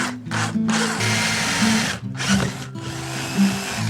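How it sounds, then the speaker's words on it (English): A power drill whirs in close, loud bursts with short pauses between, its motor pitch shifting as it bites into an acoustic guitar while drilling pickguard screw holes. "Now I have to drill them to mark for the holes gone."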